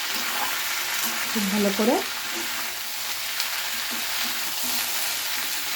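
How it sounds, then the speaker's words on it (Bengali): Cauliflower frying in a pan is stirred, producing a continuous close sizzle with soft scraping, while a voice speaks briefly over it. "এবার আমি এটা নাড়িয়ে নিচ্ছি"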